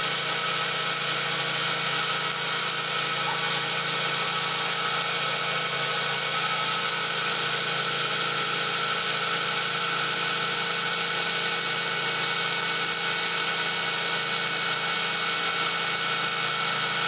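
A pilot drill on a milling machine cuts into metal at a light feed, a steady mechanical whir, constant and close, with a broad hiss and a low hum running evenly throughout.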